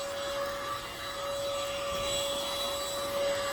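A Wowgo cordless vacuum cleaner runs with a steady, even motor whine and airflow hiss, heard close and uninterrupted, with no talking.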